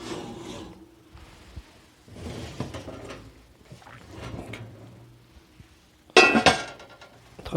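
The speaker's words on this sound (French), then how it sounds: "On va pouvoir retirer le couvercle." A lid is lifted off a hot pot of no-knead bread in the oven: scraping and rubbing metal sounds, soft clinks and shuffling, ending in a loud, bright metallic clatter near the close.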